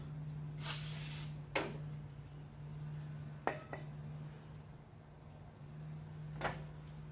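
Short hissing bursts of brake cleaner sprayed from an aerosol can during engine timing chain work, a longer jet followed by a few brief spritzes and knocks, moderately close over a steady low hum.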